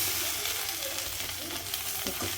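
Fish frying in a pan gives a loud, steady sizzle and crackle of hot oil that fills the whole moment, dense and continuous with no speech.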